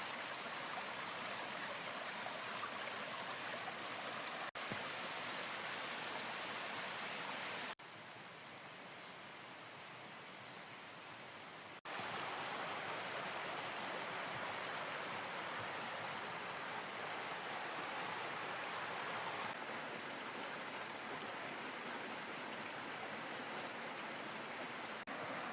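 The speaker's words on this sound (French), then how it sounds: "Il est beau, ce petit cours d'eau" A small stream flows in a steady, close rush with a soft hiss, continuous throughout, with brief stretches where the level drops, muffled.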